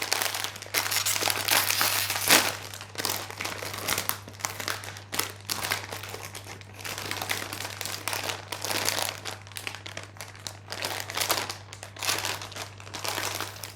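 Packaging of a tourteau fromager cake being opened, with continuous close crinkling and crumpling of wrapping that runs throughout, alone without talk.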